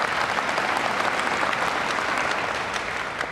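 Steady applause from an audience, a dense wash of clapping that holds throughout and fades slightly at the end.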